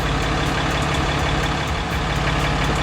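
Engine of a 2018 Ram Tradesman pickup idling steadily with a low, even rumble and throb, loud and close, running alone without speech.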